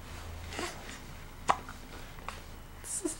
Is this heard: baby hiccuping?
yes